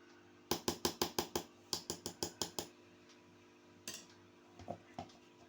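A spoon clinks against a bowl while mixing a neem and turmeric paste, with two quick runs of sharp, evenly spaced taps followed by a few scattered softer clinks, close and quiet.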